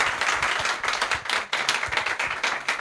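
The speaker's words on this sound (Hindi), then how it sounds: "ताली बजा दीजिए।" Audience applause at an open mic show at an ITI in Delhi, a steady dense clapping from a crowd that carries on for the full stretch with small dips in intensity.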